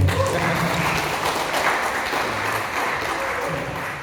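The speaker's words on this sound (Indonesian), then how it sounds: "Mari kita tepuk tangan perketon semua dulu." Applause from an audience at a sports development meeting, a steady wash of clapping that holds evenly throughout with faint murmuring underneath.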